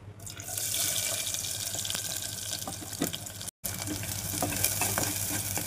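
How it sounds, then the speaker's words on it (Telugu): Onions frying in hot oil in a kadai for an omelette curry, a steady close sizzle with scattered crackles and stirring scrapes, brief dropout midway. "ఇప్పుడు ఆయిల్ వేడైన తర్వాత ఆనియన్స్ వేసుకోవాలి కదా."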